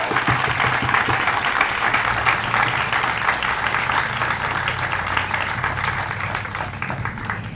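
An audience at a library grand re-opening claps steadily and loudly for the whole stretch, with dense applause that fades only slightly toward the end.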